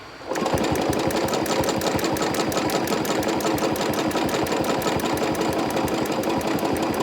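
A sewing machine stitches straight quilting lines in a spiral on fabric. A fast, even mechanical chatter starts after a brief pause and runs steadily and close, with no voices.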